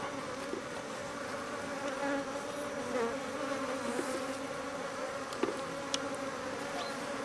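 Honeybees buzz continuously during a beehive inspection, a dense, close drone with small clicks and bumps from the hive work, and no talking.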